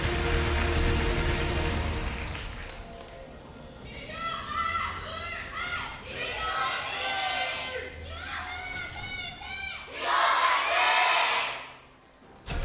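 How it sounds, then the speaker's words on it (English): A large esports arena crowd cheers and shouts in swelling waves for the competing teams at a League of Legends match, loud and sustained, with a caster talking over the noise. "So SKT, they got the bigger cheer"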